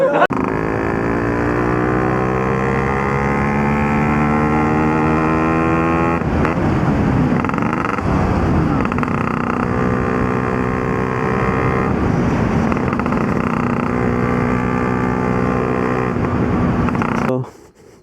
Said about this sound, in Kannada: ಗಾಡಿ ಹಿಂಗಿದೆ, 5 ಸ್ಪೀಡ್ ಗಾಡಿ ಅಂತೆ.